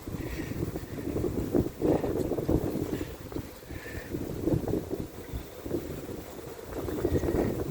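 Steady wind buffets the microphone outdoors, a broad rumbling roar with gusty swells and no voices.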